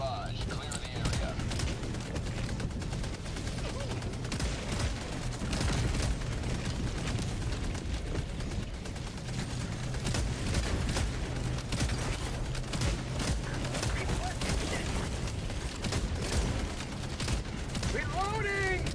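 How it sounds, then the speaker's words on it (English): An orbital barrage in the shooter game Noobs In Combat: a rapid, dense string of explosive cracks and booms rolls on without pause under a constant battle din. "Orbital incoming. Firing orbital barrage."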